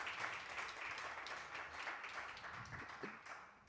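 An audience applauds after a classical Heian-period Japanese music performance, a steady wash of many hands clapping that sounds faint and somewhat distant and continues throughout.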